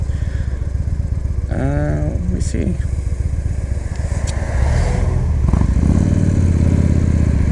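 A Victory Highball motorcycle with straight pipes idles and revs with a loud, raw exhaust rumble, a person briefly speaking over it as the engine note rises toward the end.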